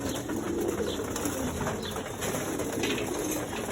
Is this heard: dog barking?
no